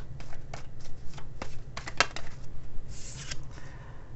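A tarot card deck is shuffled by hand nearby, giving quiet bursts of riffling and soft flicks of cards, irregular and close, with no speech.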